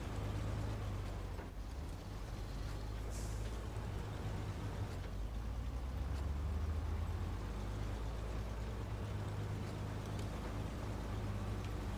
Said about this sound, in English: This one doesn't have a bad engine sound either.